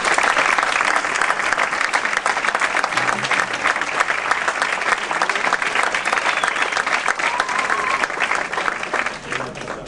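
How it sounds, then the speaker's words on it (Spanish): An audience applauds a doctor at a talk on ADHD neurological research: sustained, dense clapping from a crowd lasting about ten seconds, easing slightly at the end. "le pido un aplauso para el doctor"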